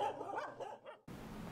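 A stray dog in Thailand gives a quick run of short, fairly quiet barks and yips, followed by a sudden cut to a low, steady background hiss.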